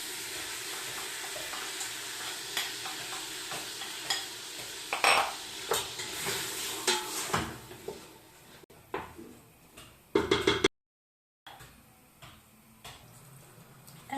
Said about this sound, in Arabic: دوكا كي تقلل الدجاج مع البصل